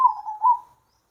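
A zebra dove (perkutut) gives a single short, soft cooing call, a warbling tone lasting under a second, heard alone against silence.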